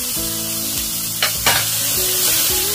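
Butter melting into oil with onion and garlic in a pan for smoked buttered chicken, a loud steady sizzle with a brief burst of spattering as the butter goes in, and no talking.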